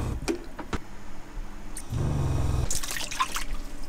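Water poured into a container for sourdough bread dough aboard a sailboat, with a short trickle and splash midway, then drips and light clinks, close and moderate.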